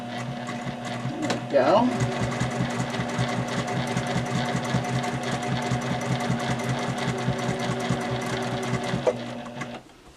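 A sewing machine back stitches around a crochet apron, running as a steady close mechanical whir throughout, with a brief spoken remark near the start.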